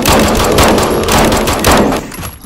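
Dense, loud gunfire in the Garry's Mod video game crackles in rapid overlapping shots for about two seconds, then briefly drops off.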